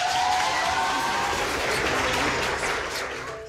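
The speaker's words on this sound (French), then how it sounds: "On peut les applaudir." Wedding guests applaud the newly married couple right after the civil ceremony, a close, lively burst of clapping with a few cheers that slowly tapers off toward the end.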